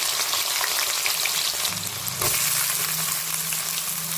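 Chopped onion frying in hot oil in a pan, a dense continuous sizzle close by, with a brief stir or scrape midway and no talking.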